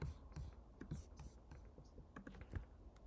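Computer keyboard keys tapped in short clusters of soft clicks at close range during copy-and-paste work, fairly quiet, with faint breathy voice traces around them.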